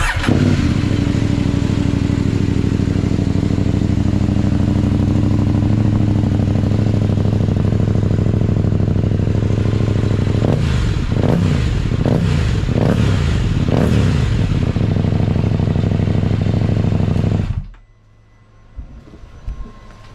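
Motorcycle fitted with a carbon Arrow exhaust and expansion chamber, DB Killer removed, idling loud and throaty close by, then blipped through several sharp revs before the engine cuts to near silence.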